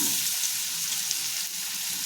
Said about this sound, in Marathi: ज्या भाज्या आपण चिरून घेतलेल्या आहेत त्या आम्ही इथे बटर घातले, त्यामध्ये थोड्या फ्राय करून घ्यायच्या आहेत.